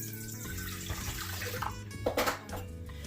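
Warm water runs from a tap for bread dough, a steady close splashing stream for about three seconds with brief louder gurgles near the end.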